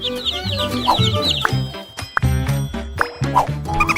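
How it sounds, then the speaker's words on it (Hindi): Small, soft baby chicks peeping in rapid high chirps, with fuller clucking hen-like calls and sharp knocks and thumps close by. "असली छोटे चूजे, बहुत छोटे और कोमल हैं"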